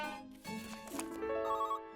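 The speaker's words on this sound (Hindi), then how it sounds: "वो ग्रेट एंड ग्रेटा होगी, फोन करके कह रही होगी कि उन्होंने नया जंपर बनाया है मेरे लिए" A telephone rings in a Hindi-dubbed children's cartoon, its bright, steady bell tones sounding over a soft musical backdrop for about two seconds.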